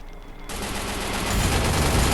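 Rifle gunfire in a war video game, a burst of rapid shots that begins abruptly after half a second and grows louder into dense, continuous firing.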